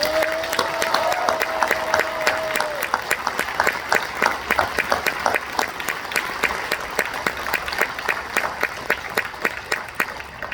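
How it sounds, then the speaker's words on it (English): Outdoor crowd clapping at a July 4th march in Burlington, Vermont, steady rhythmic applause running the whole way with sharp individual claps, a faint tone sounding briefly at the start. "if we can all give them a round of applause"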